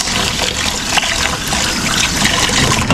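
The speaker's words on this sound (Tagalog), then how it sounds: "Ugas-bigas lang." Rice being rinsed with water in a cooking pot at a riverside campsite, a loud, close, continuous sloshing and trickling of water with no talk.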